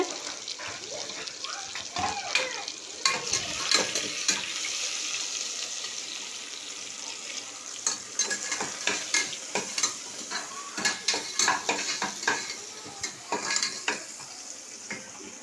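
Ginger garlic paste frying in a pan, heard as a close sizzle mixed with scraping stirs and clattering utensil knocks, with running water from a tap and a few quiet voices at times.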